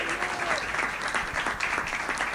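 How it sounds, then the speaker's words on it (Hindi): At a Hindi kavi sammelan poetry gathering, an audience breaks into loud, dense clapping that holds steady for a couple of seconds, close and full. "एक बार जोरदार तालियां बजाइए"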